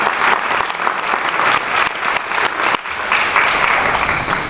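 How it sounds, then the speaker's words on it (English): An audience at a magic show claps loudly and steadily, dense applause filling the room with a brief dip near the end. "Another round of applause for Cindy as she gets back"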